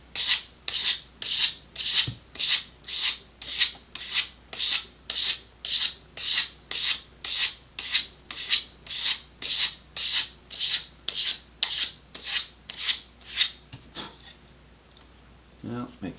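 Sandpaper rasps in a steady back-and-forth rhythm against an Estes Optima Pro model rocket part, about two dozen even, close strokes, then stopping near the end, with a brief voice at the end.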